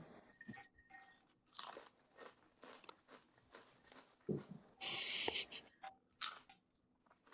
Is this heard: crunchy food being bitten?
yes